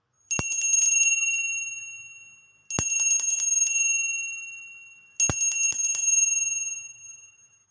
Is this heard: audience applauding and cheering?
no